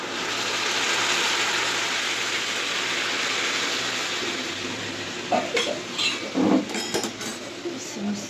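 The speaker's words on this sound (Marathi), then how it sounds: "आता गरम पाणी मस्त ओतून घेऊ" Hot water pours into a cooking pot in a home kitchen, a continuous rushing splash that fades out before a few light metallic clinks and knocks of the pot.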